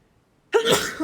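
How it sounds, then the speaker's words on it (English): A single loud sneeze bursts out abruptly after near silence, close to the listener. "Oh, what a sneeze."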